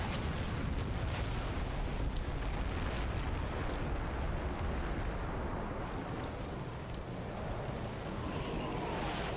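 DPICM artillery barrage in a Cold War wargame, heard as a dense continuous roar of rumbling blasts and crackling submunition impacts that stays loud and unbroken throughout.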